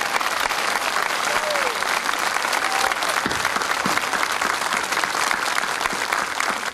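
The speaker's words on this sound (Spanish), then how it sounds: "quiero empezar esto pidiendo un gran aplauso nuevamente por usted." Sustained applause from a large crowd during a First Lady's visit in San Carlos, Chile, dense steady clapping throughout with a faint whistle or two, no voices standing out.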